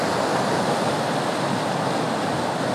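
Rising river water rushes past near a bridge, a loud, steady broadband roar of flowing current with no pauses.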